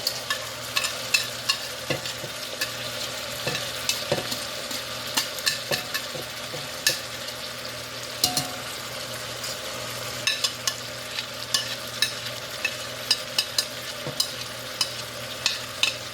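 Garlic fries in a pan for braised short ribs, a steady soft sizzle broken by repeated scraping clicks of stirring, close and without talk.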